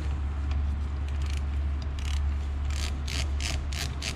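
A ratchet wrench loosens bolts on the power steering bracket of a 1967 Ford Mustang, giving rapid clicking bursts that grow more frequent toward the end over a constant low hum, close by, with no speech.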